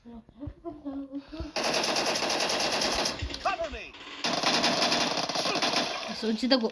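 Video game Uzi submachine gun fire comes in two long sustained rattling bursts, loud and close, separated by a short pause. A few short sounds precede the first burst.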